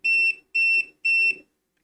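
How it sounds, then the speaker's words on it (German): Three short, piercing electronic warning beeps from a cheap multimeter reading 30 volts, in an even rhythm, each about a quarter second long, then silence. "Da fängt er an piepsen und sagt, huhuhu, 30 Volt, gefährlich."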